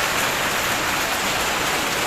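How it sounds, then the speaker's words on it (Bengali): Heavy rain pours down in a dense, unbroken hiss that stays loud and even from start to finish, with no voices. "তুমুল বৃষ্টি হচ্ছে দেখতে পাচ্ছ দেখো"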